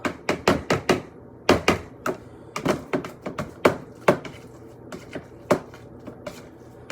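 A fork working guacamole in an ordinary bowl, giving a run of sharp, close taps and knocks in quick irregular bursts, loud and alone with no talking.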